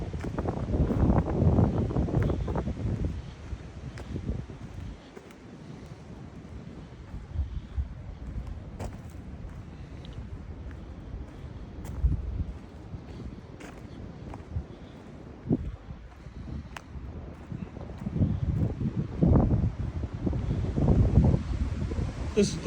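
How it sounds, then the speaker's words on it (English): Strong, gusty wind on a mountain trail, buffeting the microphone in steady low rumbling waves that rise and fall across the whole stretch and swell loudest near the start and end. "Beautiful weather, just extremely windy"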